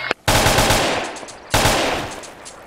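Rapid automatic gunfire from a video game, two loud sustained bursts of machine-gun shots, the first after a brief gap and the second starting midway, each fading slightly as it continues.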